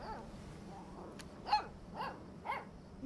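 A dog barks in the video game Life is Strange 2: three or four short, faint barks roughly half a second apart over a steady ambient game background.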